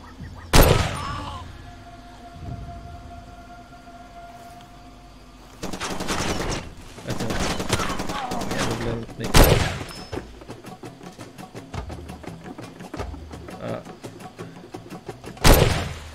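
Gunfire in the Far Cry 2 video game: loud sharp shots ring out at the start, around the middle and at the end, with bursts of rapid fire and clattering action between them over a low ambient hum.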